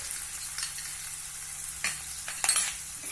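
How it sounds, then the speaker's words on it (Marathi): Curry leaves and ginger-garlic paste hit hot oil, giving a steady hiss of frying with a few sharper crackling bursts, close and fairly loud with no talking. "कडीलिंबाची पानं घालूया आलं लसूण पेस्ट"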